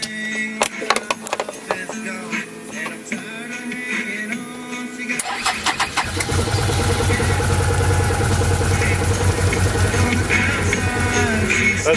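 A Can-Am Commander 1000XT side-by-side engine turns over and settles into a loud, steady idle after a stretch of clicking and mechanical rattling, with the rumble holding continuously to the end.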